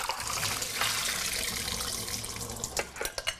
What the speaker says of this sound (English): I have 2 cups of raw cashew nuts right here soaking in water. So I'm going to drain these now.